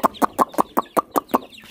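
Chickens clucking close by at feeding time in a village yard: a quick, even series of about eight loud clucks, each short and evenly spaced, with no talk.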